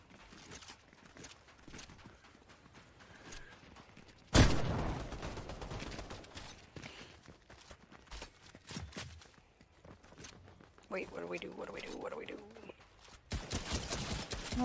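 Fortnite players fire guns in a match: a loud crack and a few sharp bursts stand out amid quieter shuffling game noise, with another rapid volley near the end.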